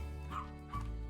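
A dog yips and whines twice in quick succession, faint and short against a low steady background hum, with no one speaking.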